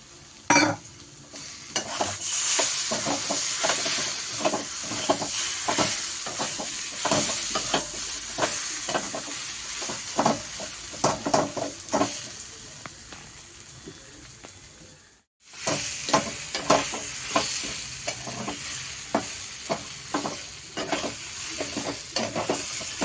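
Prawns and green chillies sizzle and fry with taro leaves in a pan, with steady close stirring and scraping strokes repeated through the cooking and a brief pause partway.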